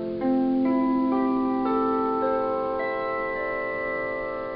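A C6 steel guitar chord in a tuning with a D on top, its notes entering one after another from C and ringing together in a smooth, sustained swell that slowly fades, played alone.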